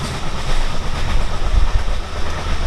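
Rumbling interior of a moving passenger train running from Malda to Kolkata, a loud steady roar with faint clickety-clack of wheels on rails, no one speaking.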